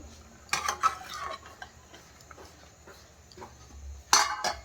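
A ladle clinks and scrapes against a pot while boiled bitter gourds are lifted out, a few sharp metallic knocks in a quiet kitchen, with a louder clatter near the end.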